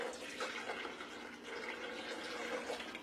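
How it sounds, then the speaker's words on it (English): Water is poured into a container of blended passion fruit juice, a steady splashing and gurgling stream at moderate distance with no talking. "we're going to go in with water"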